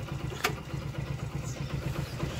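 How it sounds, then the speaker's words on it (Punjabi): An idling motorcycle engine warms up in the morning, giving a faint, steady low pulsing putter throughout with one brief sharp click early on. "ਮੋਟਰਸਾਈਕਲ ਸਟਾਰਟ ਖੜਿਆ ਵਾ, ਕਿਉਂਕਿ ਸਵੇਰੇ ਸਵੇਰੇ ਗਰਮ ਕਰਨਾ ਬਹੁਤ ਜ਼ਰੂਰੀ ਹੈ"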